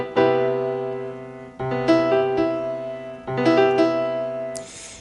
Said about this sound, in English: So root 7th would just sound something like this.